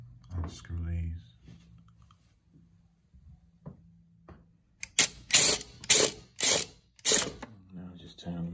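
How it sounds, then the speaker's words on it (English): An impact driver working screws loose from a blind bracket, several short loud rattling bursts in quick succession after quieter handling noises and a brief voice, close by. "So next I'll just use the impact and unscrew these"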